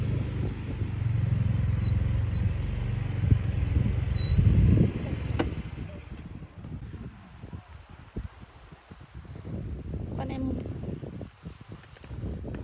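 Motorcycles ride along a road on a long trip toward Tambobo Bay, engines droning steadily under heavy wind buffeting, with a passing vehicle swell midway and people talking.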